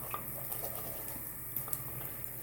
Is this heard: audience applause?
no